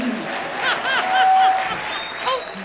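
A crowd claps steadily, with a few high-pitched whistles rising over the applause.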